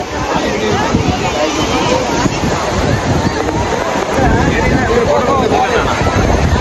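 Wind buffets the microphone over rolling surf at the crowded public beach at Velankanni, a loud, continuous roar with a crowd murmuring and people talking throughout.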